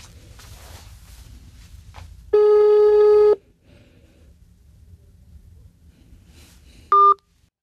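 Telephone keypad tones followed by a steady, loud busy tone lasting about a second, then a short final beep after a quiet pause, with no talk over it.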